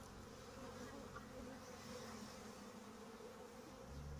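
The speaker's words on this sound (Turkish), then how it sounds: "Kafkas arıları uslu arılardır." Caucasian honey bees hum in a dense, steady drone at an open hive being readied for the season, a faint continuous buzz with no voices.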